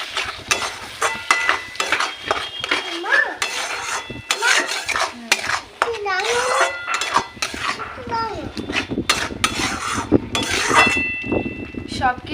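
Egg stuffing seasoned with salt, turmeric, chilli powder and a little sugar is fried and stirred in a pan, with repeated metallic scrapes and clinks of a utensil against the pan while a person talks intermittently.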